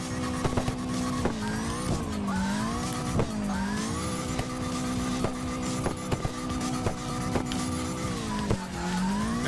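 Car drifting in the CarX Drift Racing Online video game, with a continuous engine drone and wavering tire squeal that rises and dips repeatedly across several slides, steady and loud throughout.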